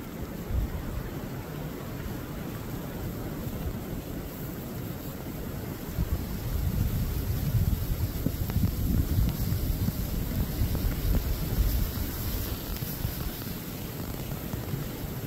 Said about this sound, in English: Still got us a pretty good storm going on.